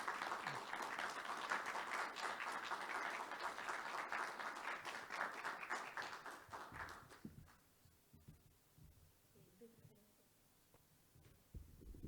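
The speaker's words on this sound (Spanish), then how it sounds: "para quien pido un caluroso aplauso de bienvenida" A welcoming round of applause from an audience greeting a speaker at an evening talk on environmentalism and eco-anxiety, dense and steady for about seven seconds before dying away into quiet room noise.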